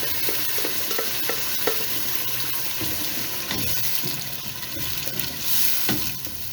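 Tomato and onion paste is stirred and cooked in a pot for aloo gosht, giving a soft continuous sizzle with repeated scraping and stirring knocks of the spoon, moderately loud and without talk.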